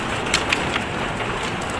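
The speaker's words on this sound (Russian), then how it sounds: "Вот так вот, друзья, и до нас дошел и град, и дождь." Heavy rain and hail pour down over the Volga, a steady dense hiss of falling water with a few sharper taps standing out near the start.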